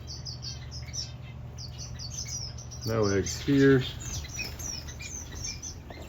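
Agitated finches and doves in an aviary, including masked grass finches, chirp and tweet in quick repeated bursts throughout, with a louder call rising near the middle; a person speaks briefly over the birds.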